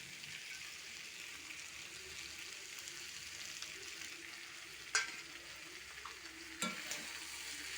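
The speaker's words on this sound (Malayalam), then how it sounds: "നമുക്ക് കടു വറുത്ത് വെച്ചില്ലേ, അതൊന്ന് ഇട്ട് കൊടുക്കാം" Fried mustard seed tempering stirred into a paneer chilli curry, a faint soft sizzle and low bubbling, with two brief sharp clinks of a utensil near the end.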